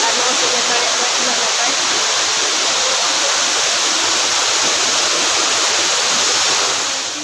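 Uski waterfall in Similipal, a steady loud roar of falling water filling the whole clip, close and constant with no pauses.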